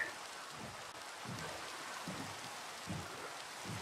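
Steady rain falls in the Minecraft video game, a constant soft hiss of drops with faint low rumbles beneath, moderately quiet and continuous throughout.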